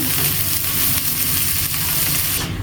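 A sauce poured over fried taro corms in a hot pan in a village kitchen sets off a dense, hissing sizzle with steamy spitting. It sounds close and continuous, then thins abruptly at the end.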